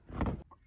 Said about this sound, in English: There is a chicken in my van.